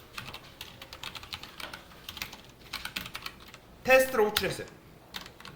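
Rapid typing of code on a computer keyboard, steady clusters of crisp close key clicks, with a louder burst of keystrokes near the end while someone speaks briefly.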